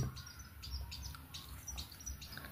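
Baby wild munias, or pipits, being fed by hand chirp in a quick, repeated series of thin, high calls, faint and close, over a low background hum.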